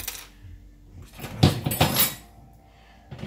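A small spoon scrapes and clicks while prying apart the plastic housing of a cat fountain water pump, giving a few close, light knocks and plastic creaks.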